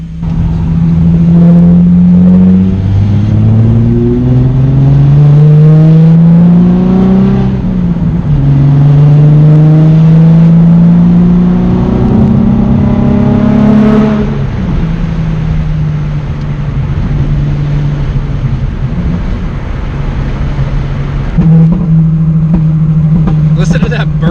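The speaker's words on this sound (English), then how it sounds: "Listen to that burble." Deep, throaty engine rumble from a Z car with a muffler delete that rises and falls as it revs, with a low burbling exhaust tone running steadily throughout, loud and close.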